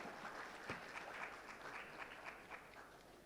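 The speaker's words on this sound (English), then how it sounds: "Let's give them a rousing applause to welcome them all" An audience at a plenary session on Indian financial inclusion applauds to welcome panelists, with faint, distant, continuous clapping throughout and no speech.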